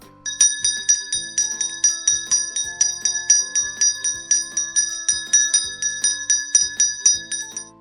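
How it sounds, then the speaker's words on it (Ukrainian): A small bell rung in a children's music guessing game, striking about twenty clear, bright metallic rings in a steady rhythm, each with a short decaying shimmer, loud and alone with no voices. "Так, це дзвоник."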